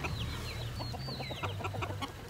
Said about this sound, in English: Chickens, we're trying to come through.